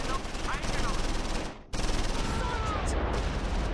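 Continuous small-arms and machine gun fire in the WWII strategy game Close Combat IV, set at Martelange and Esch-sur-Sûre in December 1944: a dense, crackling barrage with a brief pause midway before the shooting resumes.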